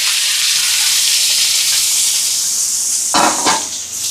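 A steady, loud sizzling hiss of onions, green chillies and garlic sautéing in hot oil, with a couple of brief clatters near the end.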